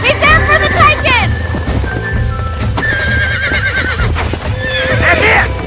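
A horse neighs and whinnies repeatedly while being roped on a ranch in the Red Dead Redemption video game. The loud, shrill calls come close, with hoof clatter and game music around them, and voices speak at times.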